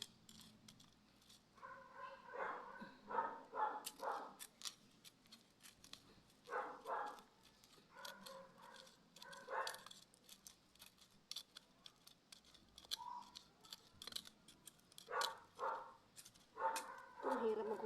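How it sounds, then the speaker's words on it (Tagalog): A dog barks in repeated short bursts at a moderate distance, mixed with metallic snipping and clinking sounds nearby. "ang aso"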